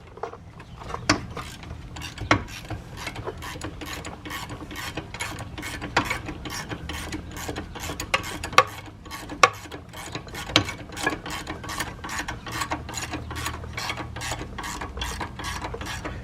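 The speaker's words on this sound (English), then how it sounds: "I would use a socket and a ratchet, but there's no space in the back to even use one, so I'm using my box and ratcheting." Rapid, close metallic clicking comes from a ratcheting box wrench turning brake bolts on a 2007–2013 Mercedes S550. Quick bursts of ratchet clicks repeat steadily, with a few louder knocks in between.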